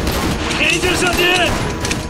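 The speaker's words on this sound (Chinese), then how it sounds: "前进射击。" Rifles fire in a battle scene from an anti-Japanese war film, rapid overlapping shots mixed with a shouted voice and other clamor, loud and dense throughout.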